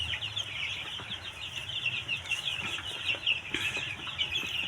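Many broiler chickens cluck and chatter continuously in a busy coop of about 1,000 birds, a dense steady chorus with occasional louder squawks.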